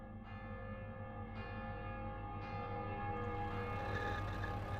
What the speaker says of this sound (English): In the distance, we can hear the bells of Viviers, Mondol, Carfontaine, and Bagué-Morvan.